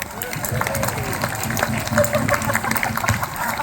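A Renaissance faire crowd at the Queen's Court cheers for the Civics Guild, a loud, sustained mass of shouting and applause-like noise that holds steady throughout.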